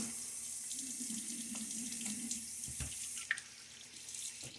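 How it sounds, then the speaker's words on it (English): Steady stream of running water from a tap while wet shaving with a Gillette safety razor, a continuous broadband hiss with a brief clatter near the end. "a little splash of water"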